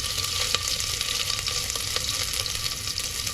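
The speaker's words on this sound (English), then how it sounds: "I'm going to add the crushed ginger" Crushed ginger goes into mutton trotters frying in an Indian pressure cooker pot, giving a steady, loud sizzle and frying hiss with light stirring scrapes throughout, no voices.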